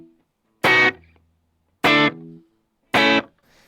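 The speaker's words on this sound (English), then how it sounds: "Without the delay, without the reverb, it sounds like this." Three dry, distorted electric guitar chord strums with no delay or reverb, each loud and cut off abruptly into silence at roughly even intervals.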